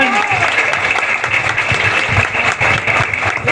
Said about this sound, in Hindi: लेकिन अगर कार्ड पसंद आए हो तो जोरदार तालियां बजा दीजिए एक बार।